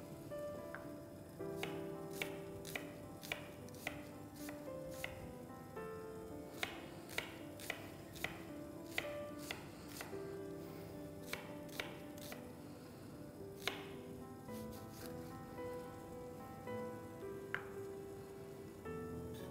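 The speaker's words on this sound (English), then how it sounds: "I'll chop some onion." A knife chops onion on a cutting board in a home kitchen, a series of crisp, fairly regular taps in loose bursts over soft background music.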